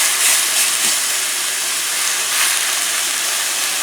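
One pound of ground beef frying in a skillet gives off a loud, steady, hissing sizzle that stays close and constant, with no talking.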